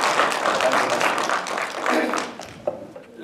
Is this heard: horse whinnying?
no